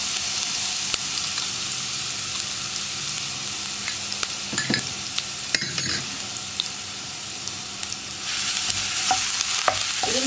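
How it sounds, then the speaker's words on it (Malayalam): Crushed ginger and garlic sizzle steadily in hot oil in a pan for a pepper chicken roast, a continuous hiss with occasional louder pops and a brief scrape of stirring partway through; no talking. "ഓയിലിലേക്ക് നമുക്ക് ഇഞ്ചിയും വെളുത്തുള്ളിയും ക്രഷ് ചെയ്ത് വെച്ചിരിക്കുന്നത് ചേർക്കാം"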